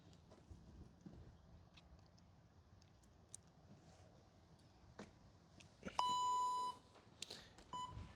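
A workout interval timer gives a sharp electronic beep, sustained for nearly a second, then a shorter second beep, heard over faint, scattered rustling and tapping from rope-flow practice.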